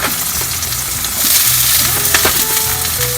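Onions sizzle in hot olive oil in a pan, a loud, close, continuous frying hiss broken by a few stirring clicks and a faint tonal background sound.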